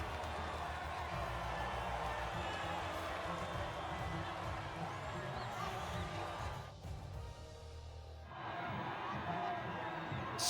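Crowd roaring and cheering for the podium finishers in the racing game F1 25, a dense continuous wash of cheers and whoops from a large audience, steady throughout with a brief dip near the end.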